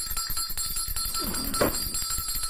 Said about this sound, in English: I didn't hear the bell.